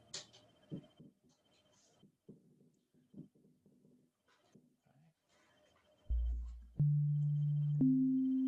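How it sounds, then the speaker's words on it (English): A pure, steady synthesizer sine-wave tone begins after quiet light tapping on a keyboard, then jumps up to a slightly higher pitch and holds, loud and sustained. "I'm on a sine wave."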